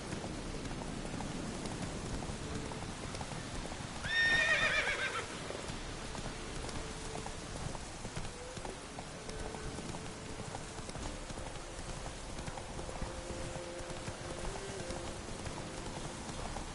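Geralt's horse Roach gallops in The Witcher 3, with steady hoofbeats under a soft rain-like hiss, a short whinny rising near the start, and a low tonal hum later on.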